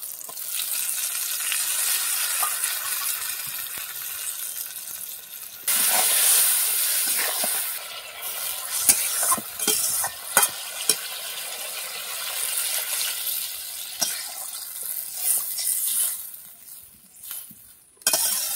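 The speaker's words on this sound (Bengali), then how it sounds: "আমি যে সর্ষেটা বেটে রেখেছিলাম, সাদা সর্ষে কালো সর্ষে, আমি এটা দিয়ে দেবো।" A white and black mustard paste cooks in a pan, with a bright steady sizzle and hiss that jumps louder partway through, plus scattered clinks and stirring knocks and no voices.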